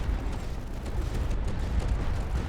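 Cannons and missiles in the tower-defense game Tower Dominion rumble as a dense, continuous low roar of blasts and booms, loud and unbroken throughout with no talk.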